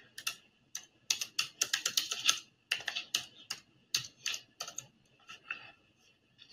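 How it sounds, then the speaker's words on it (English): A password is typed on a computer keyboard in quick, irregular bursts of crisp key clicks, close and clear, with brief pauses and no talking. "I'll type that in."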